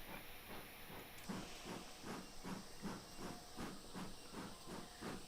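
A steam locomotive in the Railworks train simulator game chuffs in a steady, even rhythm of about two beats per second, each chuff a soft hissing puff over a constant steam hiss, heard alone and fairly quiet.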